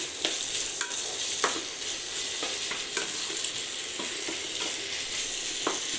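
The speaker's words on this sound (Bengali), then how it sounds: "আর একটু ফ্রাই করে নেব হলুদটা দেওয়ার সাথে সাথে।" Turmeric and vegetables fry in a pan with a steady close sizzle, broken by repeated scraping taps of a spoon stirring them, with no talking.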